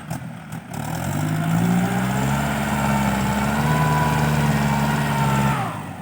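A steady tractor engine drones at low pitch for several seconds, loud and close, with no talking, then fades slightly at the end.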